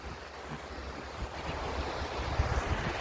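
Ocean surf washing onto a beach, a steady broad wash with wind buffeting the microphone and a few heavier low thumps near the end, no voices.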